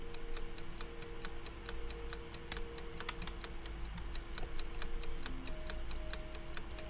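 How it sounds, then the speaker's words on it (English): Steady ticking clock effect from a video game, a regular tick-tock pulse running alone over a bed of hissing white noise, with faint tonal hums beneath. "Shout out to the white noise in this ticking sound effect, though."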